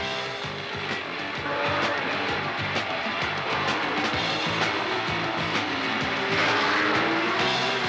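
Can-Am race cars from the 1983 season lapping the Trois-Rivières street circuit, engines roaring steadily with repeated passes and tire noise, loud and continuous for the whole stretch.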